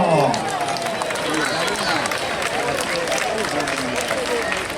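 Crowd at a school bonfire night in Parque Avellaneda clapping and cheering steadily throughout, a dense, continuous wash of applause with some chatter mixed in.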